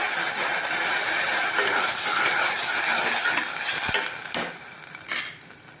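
Carrots and other vegetables for pulao fry loudly in a pressure cooker pan with a dense hiss, then fade as water goes in, leaving a couple of metallic clanks and softer bubbling.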